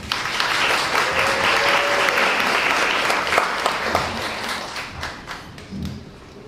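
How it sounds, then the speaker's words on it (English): Audience applause at a live event finale following a dance performance introduction, a full burst of clapping that gradually thins out into a few scattered, separate claps and thuds near the end. "Let's give a round of applause."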